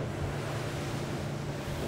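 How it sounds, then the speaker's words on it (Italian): Waves rush and slap steadily against the hull of a Cranchi A46 Luxury Tender motor boat running at minimum planing speed of 12 knots, mixed with constant wind noise and the low engine drone. "Cavalchiamo queste onde alla minima andatura di planata"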